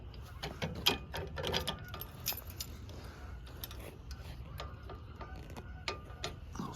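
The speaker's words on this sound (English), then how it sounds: "We're gonna crank the mast up real quick" An auctioned machine's mast is cranked up by hand, giving quiet repeated ratcheting clicks and mechanical ticks at an uneven pace, faint and close, with some low background rumble.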